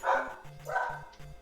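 Dogs indoors give a few quick, fairly close barks in a short burst, with no talking over them.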